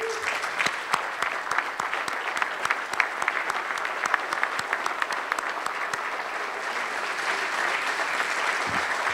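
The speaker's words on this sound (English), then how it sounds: "Let's give a round of applause for everyone who is here today" Sustained applause from a crowd standing at the close of the 23rd annual Tie-One-On event in 2014, many hands clapping steadily and densely for the full stretch, close and even, with no one speaking over it.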